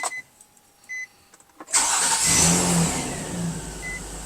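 A Nissan Murano with a newly replaced starter cranks briefly after a few quiet clicks, then catches and fires into a loud, close idle that settles into a steady running hum.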